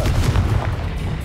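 Confringo spell blasts in Hogwarts Legacy, a dense, continuous low rumble of booming impacts lasting about a second, loud and close with no voices over it.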